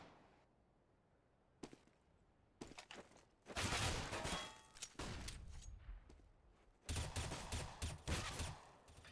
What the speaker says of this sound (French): Qui a entamé Solek qui tombe sous les balles de Nox